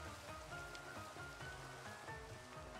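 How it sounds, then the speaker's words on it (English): Steady rain falls in Minecraft, a constant even hiss of drops on surfaces with a low rumbling wash beneath, continuous and fairly soft throughout with no voices. "It's raining and there's a man barbecuing outside."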